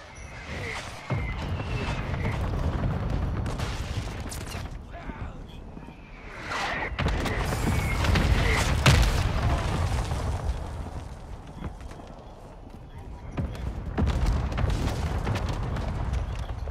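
Frag grenade blasts in Call of Duty: Modern Warfare II combat, deep booming explosions with rumbling tails among gunfire and battlefield noise, with shouted voices over the action.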